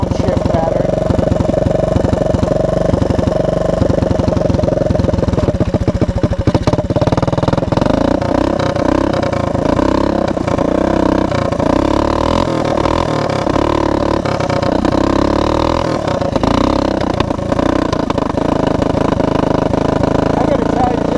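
Engine of a Honda ATC200M three-wheeler with an ill-fitting cheap replacement carburetor, running loud and steady close by for the whole stretch, with uneven revving pulses over a constant rumble.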